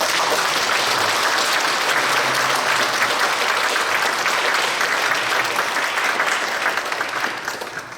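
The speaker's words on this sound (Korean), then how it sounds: "박수 한번 쳐주세요." A large congregation applauds steadily at a church ordination ceremony marking a 45th anniversary, dense sustained clapping filling the hall before fading at the end.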